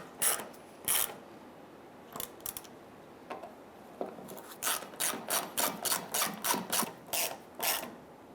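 A ratchet wrench snugging down fuel pump bolts on a 1995–2001 Ford Explorer, a series of quiet clicking strokes that start sporadically and then settle into a steady, rapid rhythm.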